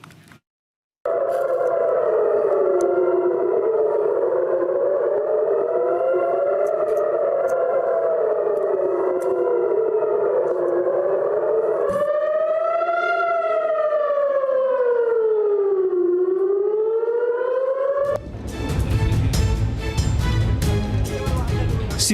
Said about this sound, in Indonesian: Sirine pertahanan bergema di langit malam Israel.